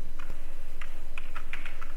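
Code being typed on a computer keyboard, a quick uneven run of close, crisp key clicks with a low steady hum beneath, no talking.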